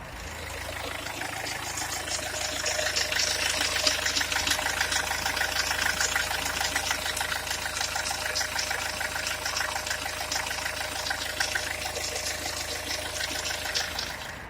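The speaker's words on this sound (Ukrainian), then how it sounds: "Ви його послухаєте, як працював мій двигун." Hyundai Tucson 2-litre diesel engine running with an abnormal noise from under the hood, a steady idle with a dense ticking clatter that holds at constant loudness throughout, heard alone.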